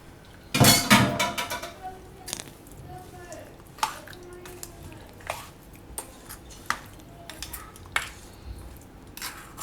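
A spoon stirs sweet mango sugar pickle with spices in a metal bowl, giving a burst of clinks at first, then scattered scrapes and taps with brief pauses, while someone talks over it.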